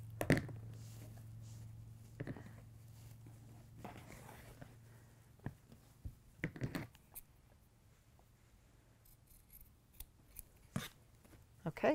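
Scissors cut through a t-shirt with quiet, irregular snips and soft fabric rustling over a low background hum.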